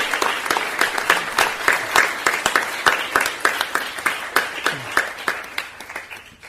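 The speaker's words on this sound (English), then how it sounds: "Give them another round of applause" Audience applause at a 2016 presentation closeout, with steady rhythmic clapping that is fairly close and loud, its claps distinct and tapering slightly toward the end.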